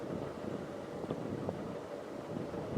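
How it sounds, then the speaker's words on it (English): Wind gusts steadily along a tree-flanked stretch of the Lancaster Canal near Aldcliffe, a soft broadband rush with microphone buffeting and no voices. "it's still a bit windy round here"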